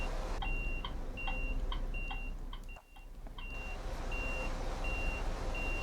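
Low air pressure warning in Euro Truck Simulator 2 driving on a Turkey map, a repeating electronic beep in short even pulses over the steady rumble of the truck engine, with a brief dip in the noise midway.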